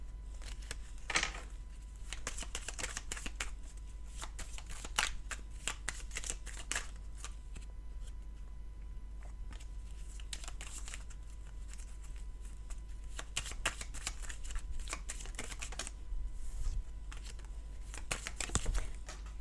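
Tarot cards being shuffled by hand, a run of soft, close riffling and flicking bursts repeating irregularly, fairly quiet with no talking.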